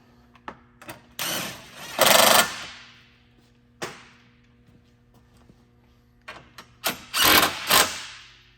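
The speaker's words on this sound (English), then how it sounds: "reinstall this bolt. And tighten those down." Power tool tightening bolts on the radiator guard during a 2022 Toyota Tundra front bumper install, heard as two loud rattling bursts about five seconds apart, each preceded by short clicks and taps, close by with no talk.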